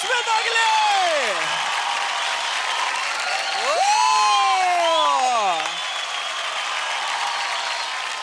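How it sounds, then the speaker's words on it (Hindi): A studio audience on a televised dance competition bursts into loud, sustained applause and cheering for a dancer, with swooping, sliding electronic tones sweeping over the clapping. "जोरदार तालियां जो रजस्मिता के लिए।"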